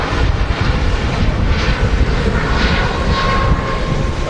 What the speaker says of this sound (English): from one Dreamliner to another, as the TUI Dreamliner behind takes off